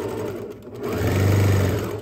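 A sewing machine stitching fabric while bunny treat bags are sewn, heard close and alone as a steady mechanical whir that starts, pauses briefly, then runs smoothly and loudly for about a second.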